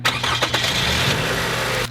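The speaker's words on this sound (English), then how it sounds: "a good way of checking that is just starting the car up" A car engine cranks and catches, then runs at a steady, loud idle close by, started up to check a worn or torn motor mount for clunking and movement.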